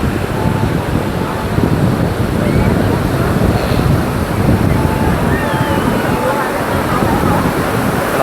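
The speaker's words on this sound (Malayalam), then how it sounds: "നല്ല ശക്തിയിലാണ് തിരമാല വരുന്നത്" Strong sea waves surge and wash continuously onto the shore at Malpe beach, a loud broadband roar close to the microphone with steady buffeting from coastal wind throughout.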